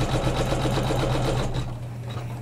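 A sewing machine tacks down the borders of a quilted pillow, a loud, close, continuous motor hum with rapid needle pulses running steadily throughout.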